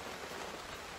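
Rain falling on outdoor surfaces, an even, dense hiss of drops through a short moment, with no voices.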